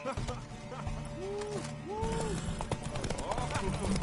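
Rhythmic hoof clip-clops from a horse in Deus Ex: Mankind Divided, steady and moderately loud, mixed with music and a voice speaking over the top.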